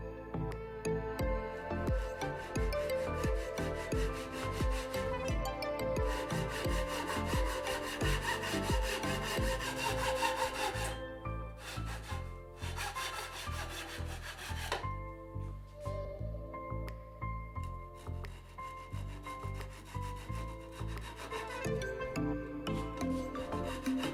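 Japanese pull saw cutting through pre-planed 20 mm square pine battens, a steady rhythmic rasping of back-and-forth strokes, close and continuous with brief pauses between cuts.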